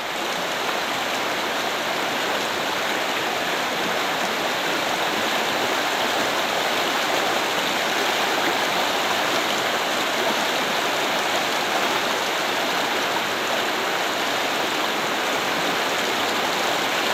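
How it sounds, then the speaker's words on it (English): Deep river crossing on the Goldie River along the Kokoda Track, the water rushing in a loud, steady, unbroken roar with no voices. "Very deep little river crossing here at the Goldie River."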